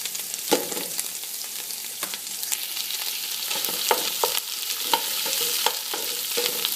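Tomato paste frying in a pan, a close, bright sizzle with sharp pops and spatters scattered through a continuous crackling hiss, alone with no talk.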